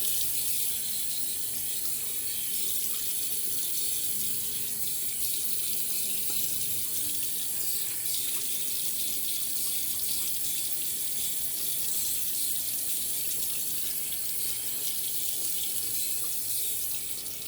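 A bathroom tap runs steadily for the whole stretch, a continuous close hiss of water into the sink during a wet shave with a brush and Floid Vigoroso soap.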